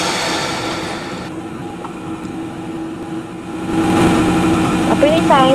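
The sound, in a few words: KRL electric train engine idling in neutral, train video game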